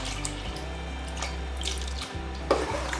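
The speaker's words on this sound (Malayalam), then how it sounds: "നമുക്ക് ഇതിലേക്ക് പാൽ ഒഴിച്ചു കൊടുക്കാം" Milk poured into cooked rice for mango payasam, a soft continuous liquid pour and splash close by, fairly quiet, with a small clink near the end.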